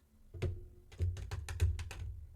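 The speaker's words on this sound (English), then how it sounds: "let me shuffle the cards." Tarot cards are riffled and snapped together in several quick, crisp bursts, close by, with soft papery clicks between them.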